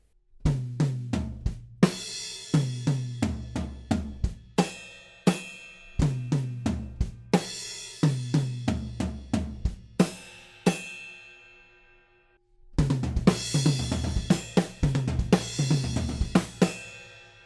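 Drum kit building up the groove of a song, steady kick and snare pattern with crash accents, a short gap, then a denser, fuller section with heavy cymbal wash; close and loud, no voices.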